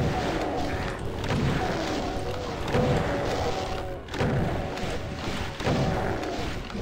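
Shotgun blasts from the video game Doom 2 land as repeated dull booming thumps against continuous game noise, fairly loud throughout.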